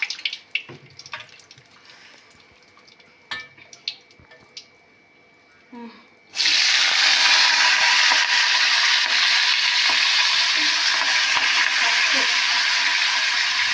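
Quiet kitchen clatter and a few knocks come first, then hot oil in a wok suddenly erupts into a loud, sustained sizzle as food drops in, and it stays steady and close to the end.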